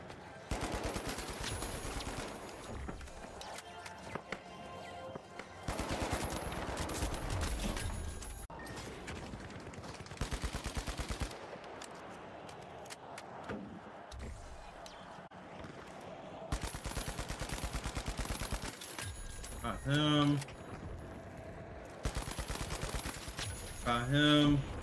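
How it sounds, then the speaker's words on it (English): Turret firing in The Finals video game: loud bursts of rapid automatic gunfire arrive in long stretches separated by brief lulls, with someone talking over the shooting. "this turret is obnoxious"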